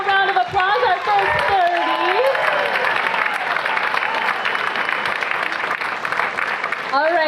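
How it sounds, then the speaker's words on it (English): An audience at a Dancing With The Belmont Stars dance show claps steadily for several seconds, dense and loud throughout. Voices talk and cheer over the start and the end. "one more round of applause"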